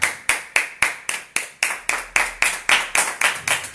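Steady, rhythmic clapping from a church congregation during a Spanish-language service. Sharp, evenly spaced claps repeat about four times a second, close and fairly loud, with no voices over them.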